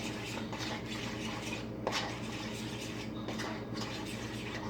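Egg whites and whey protein powder stirred together for pancakes, soft scraping and clinking of a utensil against a bowl under a steady low hum, close but quiet with no talk.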